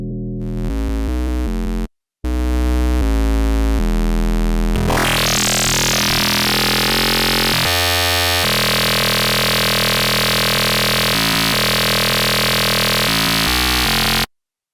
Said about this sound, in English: Let's add the analog engine with a harmonically rich square waveform,